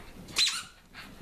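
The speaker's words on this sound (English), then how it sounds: "Hopefully you guys chew the squeaky out early, though." A Schipperke or hound dog plays with a squeaky toy at a birthday celebration, giving one short, sharp squeak close by over a faint indoor background with no talk.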